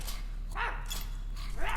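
Dog in the video game My Friendly Neighborhood giving two short barks, spaced about a second apart, over a steady low game hum; no talking.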